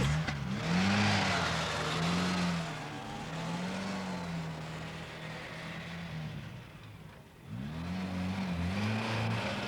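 A car being driven, its engine note rising and falling in steady pitched sweeps, loud and near, easing briefly before revving up again; no talk.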